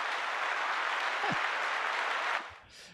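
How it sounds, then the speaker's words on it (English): Brief audience applause for a guest at a real-estate talk, a soft wash of clapping that holds for about two seconds and then drops away quickly. "Round of applause for you."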